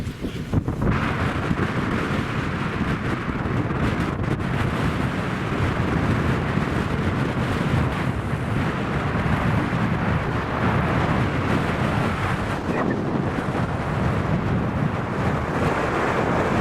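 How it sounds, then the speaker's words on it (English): Strong wind buffets a Hatteras 58 yacht at the dock, a loud, continuous roar of wind against the microphone with low rumbling gusts and faint water movement throughout, no voices. "the wind's blowing against this, so it just pushed us out"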